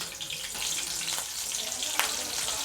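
Green chillies fry in hot oil, giving a steady close sizzle and crackle with a few sharper pops, continuous through the short moment with no talk.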